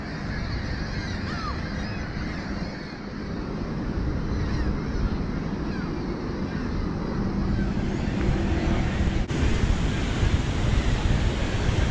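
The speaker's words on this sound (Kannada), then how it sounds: "ಅಲ್ಲಿ ಮೇಲಿಂದ ನೀರು ಬೀಳ್ತಾ ಇದೆ." Niagara Falls, water plunging from above: a loud, continuous roar of falling water, steady and broadband throughout, with occasional bird honks in the background and no talking.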